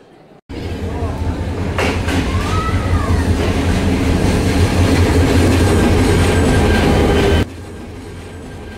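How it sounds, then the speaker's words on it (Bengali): Tista Express, Bangladesh Railway intercity train 707/708, rolling into Jamalpur station: a loud, steady rumble of wheels and carriages with faint squeals, sustained for about seven seconds before cutting off. "3:45 তিস্তা এক্সপ্রেস জামালপুর স্টেশনে প্রবেশ করার কথা"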